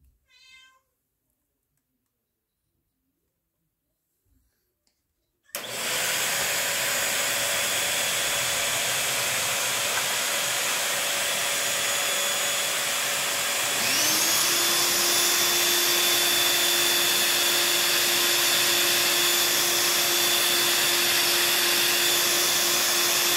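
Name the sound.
Bissell 3-in-1 and Eureka Quick Up stick vacuums running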